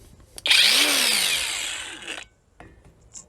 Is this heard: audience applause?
no